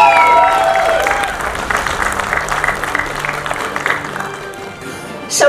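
Audience applause and cheering for writer Nitin Supekar at a Marathi film teaser launch, loud at first and then settling into steady crowd clapping, with some voices mixed in and a sharp burst near the end.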